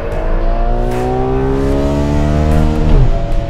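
A Ferrari 12Cilindri V12 revs hard through second gear, its steady multi-harmonic engine note climbing in pitch for about three seconds before a brief dip at the shift, loud and close with no talking.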